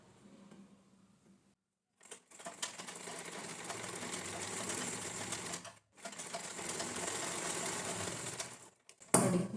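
Electric sewing machine stitching a blouse lining fabric, running in two steady bursts of about three and a half seconds each with short pauses, close and clear.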